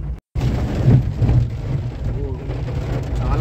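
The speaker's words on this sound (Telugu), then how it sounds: "చాలా బీభత్సమైన వర్షం పడుతుంది ఇక్కడ" Heavy rain on a slippery road during the Saleshwaram pilgrimage, a dense steady roar close to the microphone with a brief dropout near the start and someone talking over it.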